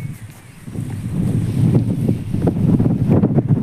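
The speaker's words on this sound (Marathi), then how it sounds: "वाऱ्याने मोबाईल हलतोय." Strong outdoor wind buffeting a handheld phone microphone on a hillside village cricket ground, a loud low rumbling roar that swells and stays constant, with no talk over it.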